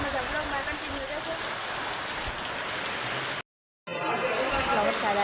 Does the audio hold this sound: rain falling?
yes